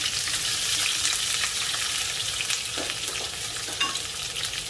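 Onion frying in a pan of oil, a steady close sizzle and crackle that runs without a break for the whole stretch, with light stirring and no voices.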